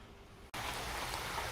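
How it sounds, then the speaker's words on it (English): Steady rain falls on an outdoor surface in the dim light of a late afternoon, a dense unbroken hiss that starts abruptly after a short break and then runs evenly and loud. "It's raining,"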